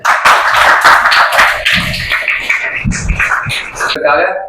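School honouring ceremony audience clapping, scattered claps from a crowd over a loudspeaker voice that keeps talking on top, loud and somewhat uneven.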